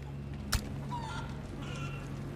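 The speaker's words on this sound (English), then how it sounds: "There's just chickens." Chickens in the Resident Evil 4 Remake game cluck and honk softly in short calls, with a sharp thump near the start and a low steady hum beneath.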